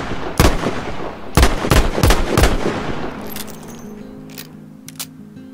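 Gunfire in Battlefield 5 multiplayer: several loud, sharp shots in an irregular burst, then fainter, more distant cracks over a lingering rumble.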